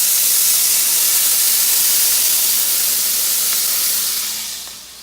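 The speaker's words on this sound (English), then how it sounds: "we're also going to go ahead and add our can of veg oil" Hot vegetable oil in a pan gives a loud, steady, hissing sizzle close by that fades slightly at the end.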